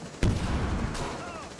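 Rainbow Six Siege gameplay carries a sharp gunshot followed by further shots and rattling gunfire. The bursts are loud and punchy against a busy in-game background.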